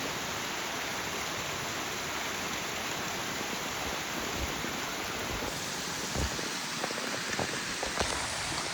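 Steady, heavy rain pours down in a dense hiss, with a few louder drops and splashes near the end, and no voices, on a hiking trail near the Harper's Creek shelter.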